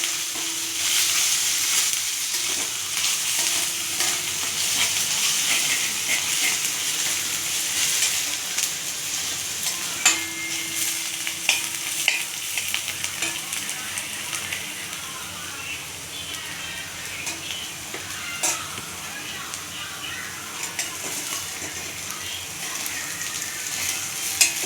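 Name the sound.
ginger and garlic being stir-fried in a pan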